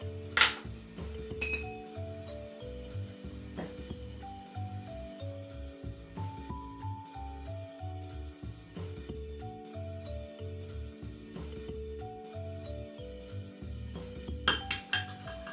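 A metal tablespoon in a cup of hot water gives soft, scattered clinks and rattles against the cup, fairly quiet and close, with a few sharper taps near the end.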